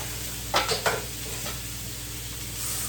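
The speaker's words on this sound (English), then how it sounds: "Yeah, it's like a stir fry. Then just a pinch of oil." Brussels sprouts and peas stir-frying in a pan with a little oil, a quiet steady sizzle with a few quick spatula scrapes early on, nobody speaking.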